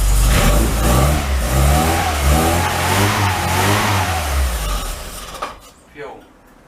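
A classic Mini van engine on its first start-up with the choke still partly on revs hard and rises and falls up close for about five seconds, then dies away as someone speaks over it.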